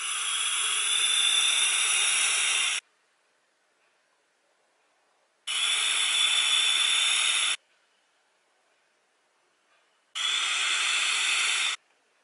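A Vandy Vape Kylin Mini RTA atomizer with a 0.3 ohm Clapton coil fires at 50 watts with airflow fully open, giving three separate loud airy hissing draws of about two to three seconds each, with silence between.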